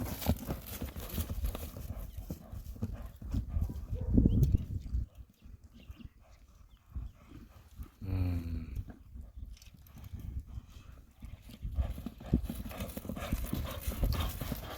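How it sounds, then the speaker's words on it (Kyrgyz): A horse's hooves clip-clop on the ground in an uneven rhythm, close and fairly loud, with brief snorting and faint voices in the background. "Жақсы ат екен негізі."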